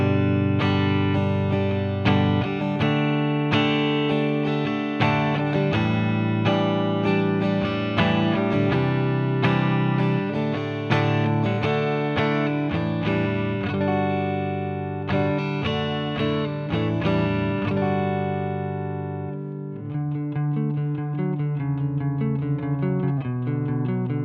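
Electric guitar played through the neck pickup of a 2004 Mexican Stratocaster, ringing chords and single notes in a steady rhythm, clean and sustained with a touch of effect, ending on a long decaying strum.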